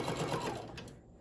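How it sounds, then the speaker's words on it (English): A sewing machine sews off the end of a stuffed bear's ear in one short, close, fast burst of rhythmic mechanical stitching that slows at the end. "I'm going to hold it down and I'm going to sew off the end."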